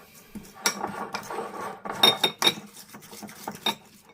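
Indomie Mi Goreng instant fried noodles being stirred with sauce in a bowl, close-up scraping and clinking of a utensil against the dish in uneven bursts, fairly quiet with no voices.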